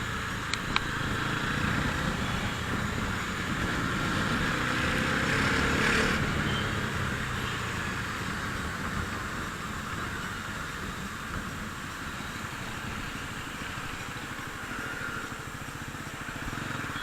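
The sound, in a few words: 2025 Bajaj Pulsar NS400Z motorcycle engine with throttle opening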